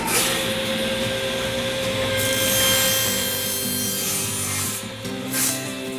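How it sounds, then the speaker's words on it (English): A saw cuts through a quarter-inch plywood panel sized for the bottom of a wall shelf frame, giving a continuous, fairly loud rasping drone with no talk over it. "I'm just going to simply take a piece of 1/4 inch plywood and cut it to fit the bottom of my frame"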